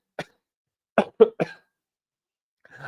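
Four short, sharp human coughs from one person nearby, a single cough followed by a tight cluster of three, then a brief trailing sound, with no talking.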